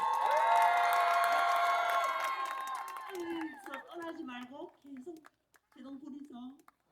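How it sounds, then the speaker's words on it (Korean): A concert audience applauds and cheers in a loud, dense wash that fades after a few seconds, giving way to someone talking over scattered remaining claps. "근데 박수 소리가 이 정도 나오면은"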